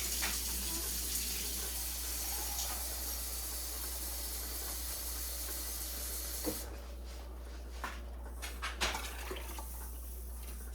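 Tap water runs steadily into a pot for beef barley stew in a home kitchen, a continuous hiss that continues to the end, joined by a few light clunks and knocks in the last few seconds.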